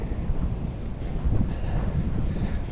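Strong wind roars across a mountain summit, a continuous loud rumbling buffet on the microphone with gusts swelling and easing, no other sounds standing out.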